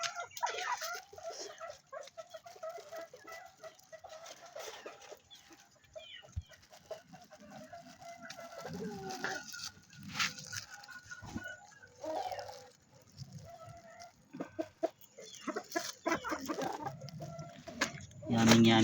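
Native chickens cluck repeatedly nearby, with occasional louder squawks and brief voices mixed in over a farmyard background.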